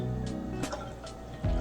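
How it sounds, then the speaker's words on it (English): Homemade ginger shot poured into a storage container, a quiet liquid trickle and drip with a few soft splashes and a muffled thump near the end, close by and without talk. "I'm going to be pouring that in this container so I can save it in the"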